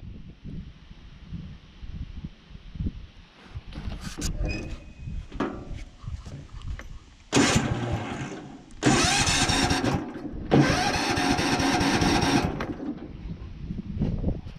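Ride-on lawn tractor with a fault, bought broken, being cranked: low rumbling bursts early, then two loud sustained roaring stretches of the small engine catching and running briefly, close by.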